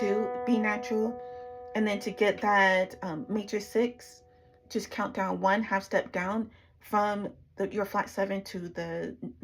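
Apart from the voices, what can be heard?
No everyday noises stand out.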